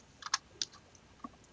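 Brief bursts of clicky keystrokes on a computer keyboard, a few taps in an irregular rhythm, quiet and close, with no talk over them.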